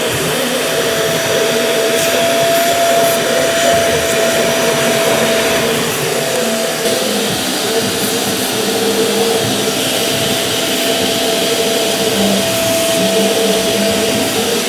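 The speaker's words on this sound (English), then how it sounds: "So clean out all your boxes and vacuum as much as possible" A vacuum cleaner runs continuously at full power, cleaning debris out of drywall mudding boxes; a loud, steady whooshing roar with a slight tonal whine throughout, no voices.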